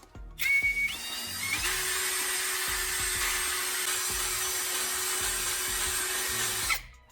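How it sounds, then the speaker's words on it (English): A power drill whines steadily for several seconds after a brief higher-pitched start, close and loud, with faint scraping as the bit bores a small hole into an old LED bulb's circuit board. "Now use a drill to make a small hole in the circuit board."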